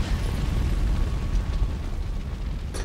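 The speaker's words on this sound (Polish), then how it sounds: "Dobra, auto wybuchło, więc już nic..." A car explodes in the Resident Evil 2 Remake video game, a deep rumbling blast that rolls on and slowly fades over a few seconds.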